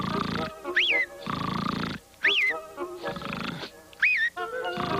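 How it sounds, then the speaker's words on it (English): A cartoon parrot snores in three slow, evenly spaced cycles, each a rasping inhale followed by a rising whistle, loud and close over a soft background. "On his master's arm, he began to snore."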